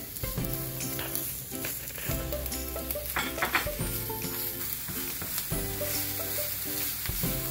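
Onion fries in hot oil in a pan, a continuous close sizzle with bursts of stirring and faint hum from a nearby appliance, no voices.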